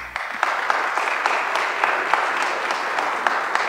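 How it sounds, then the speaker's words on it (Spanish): Audience at a presentation on a national ballistic fingerprint database applauding an engineer from the Chilean college of criminalists, a steady, dense patter of many hands clapping, fairly loud and continuous. "un fuerte aplauso al ingeniero Héctor Casanova, Colegio Criminalistas de Chile"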